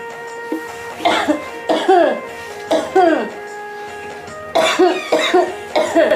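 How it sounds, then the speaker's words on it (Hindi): A sick person in a rural Uttarakhand home coughs repeatedly in harsh bursts, close and loud, with several separate fits spread across the span and no speech. "इतनी खांसी हो रही भी इनको, क्या हो रही है इतनी खांसी?"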